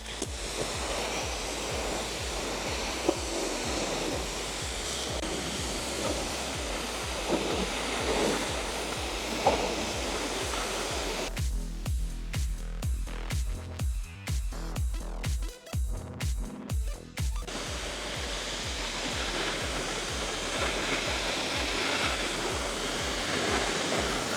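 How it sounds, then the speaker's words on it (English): A hose or pressure washer rinses a car after a pre-wash, giving a continuous loud rushing spray of water with a stretch of rapid pulsing as the stream sweeps across the panels. "I'm gonna rinse this off."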